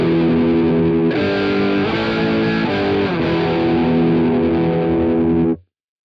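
Distorted guitar through a Boss GX10 with its pitch-shifting whammy effect, one sustained chord bending up and down in steps before cutting off abruptly, loud and close with no dry signal.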